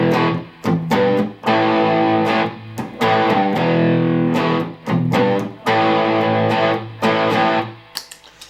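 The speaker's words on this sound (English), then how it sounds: "Now check it out, if I add what's called distortion, they sound like rock chords." Distorted electric guitar power chords strummed loud and alone, held in sustained blocks with short gaps between them.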